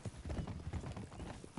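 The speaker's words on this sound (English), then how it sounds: "You got a problem with that horse?" Horse hooves clip-clop in a quick, steady rhythm, close and fairly loud, with no talking.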